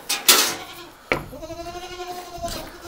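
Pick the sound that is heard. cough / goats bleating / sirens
goats bleating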